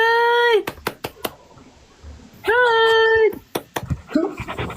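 A dog whimpers in two long, high, drawn-out whines separated by sharp clicks and knocks, then pants quickly toward the end, close and loud during a livestream.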